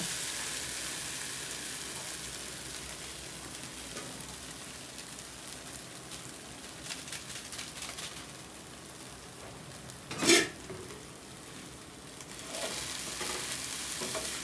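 Noodles stirred as they fry in a pan, a steady soft sizzle with stirring scrapes running throughout and one sharp metallic clink partway through, heard close and alone.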